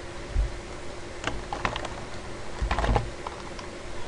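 Typing a zone name on a computer keyboard and pressing enter, a few soft, irregular key clicks in small clusters over a faint steady hum, with no voices.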